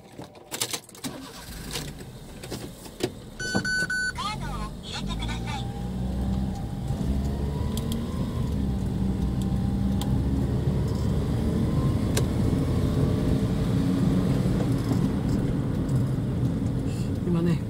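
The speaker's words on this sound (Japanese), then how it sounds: "今ね、車、後ろからね、車が来ちゃいましたんで慌てて出ました。" A car comes up from behind on a narrow rural road through rice fields, its engine rising into a steady, growing drone after some close handling noises and clunks.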